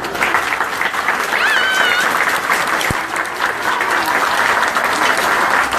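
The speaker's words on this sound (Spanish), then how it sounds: "y para que pida un aplauso fuerte" Loud, sustained applause from an audience at a public event, dense continuous clapping filling the whole stretch with a brief cheer-like tone near the start.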